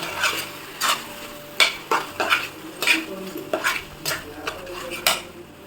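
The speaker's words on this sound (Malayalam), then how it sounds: "ഇതൊന്ന് ഇളക്കിയിട്ട് നമുക്ക് കുറച്ചുകൂടെ വെള്ളം ചേർത്ത് കൊടുക്കണം കേട്ടോ" A spoon scrapes and clacks against a pan while pav bhaji vegetables are stirred and mashed, giving irregular close metallic knocks over a faint background sizzle.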